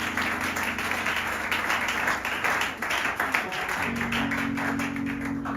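Congregation in a church service clapping in a steady rhythmic beat over sustained organ or keyboard chords, a lively, roomy sound with voices mixed in.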